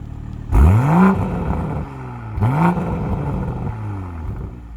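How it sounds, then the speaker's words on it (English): The 3.0 engine of a 2021 Toyota GR Supra revs twice, each sharp climb in pitch falling back to a steady idle, close and fairly loud. "take a listen to that gorgeous engine note"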